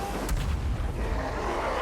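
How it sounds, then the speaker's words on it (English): Cannon fire in the Total War Warhammer 3 strategy video game: a deep booming shot with a rumbling low tail, heard amid dense battle noise, with no talking. "let my cannon work on the archers"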